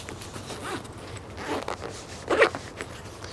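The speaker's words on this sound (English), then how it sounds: "When I unzip it," The zipper on a small, lightweight travel LED light-kit pouch is pulled open with several quick rasping strokes, close and moderately loud, ending in a sharper final burst.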